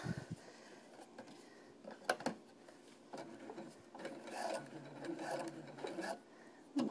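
A sewing machine topstitching a cloth all-in-one diaper runs in short, uneven bursts with pauses between, with rubbing and handling of fabric; close and moderately loud, no speech.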